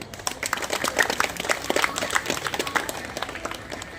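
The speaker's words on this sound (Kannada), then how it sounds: "ಚಪ್ಪಾಳೆ ಬರಲಿ." Audience at a community awards event applauds a felicitation, a scattered run of distinct claps from a modest crowd, moderately loud and uneven, tapering slightly toward the end.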